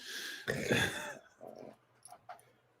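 A dog gives a loud, close rough growl, then softer throaty grumbles and a couple of brief whimpering snorts, fading toward quiet.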